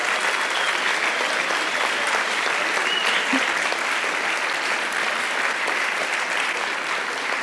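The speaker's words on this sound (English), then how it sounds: "We just have a round of applause for the core jury and the university representative jury." Sustained audience applause at a SensUs 2017 award ceremony, dense and steady throughout, a full room clapping without pause or talk.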